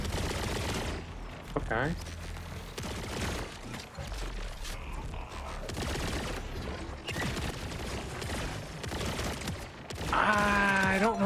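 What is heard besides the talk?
new gun firing in the video game Borderlands 4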